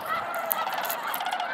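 A flock of snow geese and Ross's geese honks continuously at Bosque del Apache, a dense overlapping chorus with no pauses.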